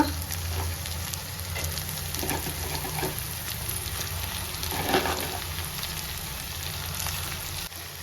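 Crab frying with tomatoes in a pan for crab masala, giving a steady close-up sizzle like light rain, with faint stirring clicks throughout.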